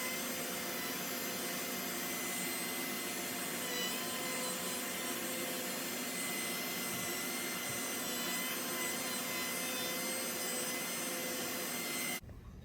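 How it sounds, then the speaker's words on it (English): A compact handheld router with dust collection shapes the edge of a wooden workpiece for a bow and arrow display rack, giving a loud, steady, close whine that runs unbroken for about twelve seconds before cutting off abruptly. "if you have a router, why not take the extra step to give the workpiece a smoother, more aesthetically pleasing finish?"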